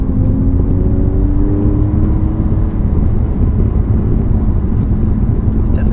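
Alfa Romeo Giulia Quadrifoglio race-tuned sedan driving, heard from inside as a steady loud engine drone with slowly rising harmonic tones over constant road rumble, no break throughout.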